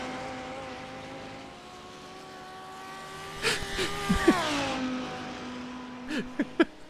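Audi, BMW and Ford race cars in a sim racing game at Mount Panorama, their engines droning with steady pitch that later sweeps and shifts as they battle, with a few sharp louder bursts near the end.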